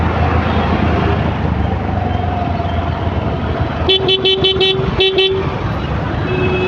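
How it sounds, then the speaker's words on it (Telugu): Heavy road traffic drones steadily while car horns blast in a cluster of short, loud repeated toots in the middle, with engines rumbling underneath. "మొత్తం ట్రాఫిక్ ఉంది ఫుల్."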